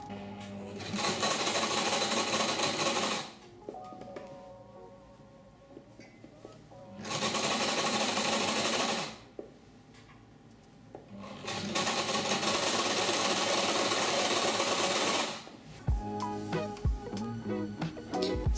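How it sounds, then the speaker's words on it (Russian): Sewing machine running three long stitching bursts along a skirt seam, topstitching close to it on a Chanel-style skirt with a fringed hem, with quiet pauses between runs and fabric handling at the end. "прокладываем строчку близко к шву. То есть делаем расстрочку."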